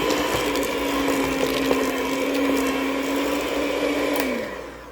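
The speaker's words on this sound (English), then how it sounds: "Let's mix everything together, and I'm going to keep mixing in a minute. Here we go. Let's cream this for about another minute." Electric mixer creaming chocolate cupcake batter: a steady, loud motor whine running continuously, the pitch dropping as it winds down at the end.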